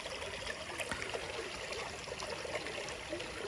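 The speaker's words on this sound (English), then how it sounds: "this is the final look of the water stream" A small stream in Sri Lanka flows steadily with a soft, continuous trickling and babbling of water, close by and fairly quiet throughout with no voices.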